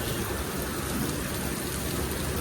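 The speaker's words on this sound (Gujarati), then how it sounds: "જો વરસાદ એકદમ સારો ચાલુ છે અત્યારે" Heavy afternoon rain pours steadily in Morbi, a dense continuous hiss of drops hitting surfaces nearby, loud and even throughout with no pauses or voices.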